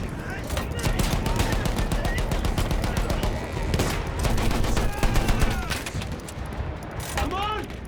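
Rapid machine gun fire from German guns on a Battlefield 1 battlefield, dense bursts of loud close shots layered with more distant gunfire, while voices shout over the din.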